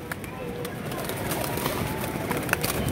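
Pink-eyed pigeons coo softly amid a busy background of rustling and outdoor noise, with a voice speaking faintly underneath.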